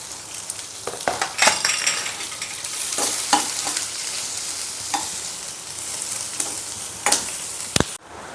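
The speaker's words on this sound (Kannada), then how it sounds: "ಈಗ ಇದಕ್ಕೆ 2 ಈರುಳ್ಳಿನ ಹಾಕ್ತಾ ಇದ್ದೀನಿ. ಇದು ಚೆನ್ನಾಗಿ ಫ್ರೈ ಮಾಡ್ಕೊಂಡ್ರಾಯಿತು." Two onions frying in a pan for a restaurant-style paneer gravy, with a steady close sizzle broken by a spoon stirring and scraping against the pan at intervals.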